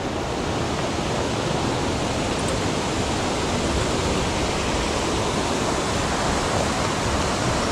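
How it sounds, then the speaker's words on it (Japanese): A waterfall pours on an upstream mountain stream in Shizuoka, a loud, steady, broadband rush of falling water that holds constant for nearly eight seconds, alone with no voices. "あれ滝じゃない？"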